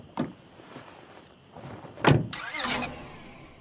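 A car in the zombie survival game State of Decay 2: a door thunk, a louder slam near the two-second mark, then a brief rising mechanical whir, with quiet gaps between.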